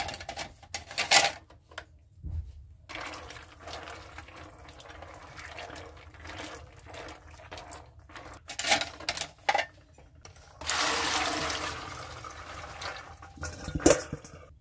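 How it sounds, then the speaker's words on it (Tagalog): Boiling water is poured over washed peanuts in a bowl, heard as uneven bursts of splashing and filling close by. A longer continuous pour comes near the end. "So guys, lalagyan natin siya ng boiling water."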